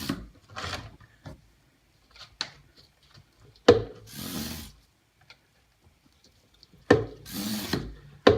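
A hand oil extractor pump on a 2006 Mercedes C280 (W203) gives a few separate strokes, each a short knock followed by a breathy, hissing draw of suction, spaced by quiet gaps.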